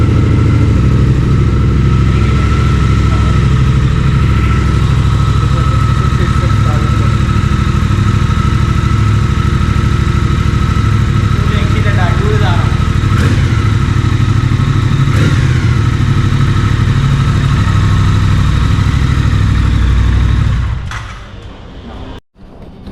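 A motorcycle engine with its stock exhaust idles steadily and close by for about twenty seconds, giving a deep even thrum with a couple of light blips, then cuts out near the end.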